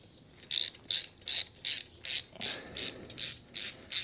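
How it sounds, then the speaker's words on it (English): Ten evenly spaced bright ratcheting clicks from a thread chaser turning in bolt threads of a Ford Y-block V8 engine block, close and crisp with no talk. "Thread chaser, not a tap."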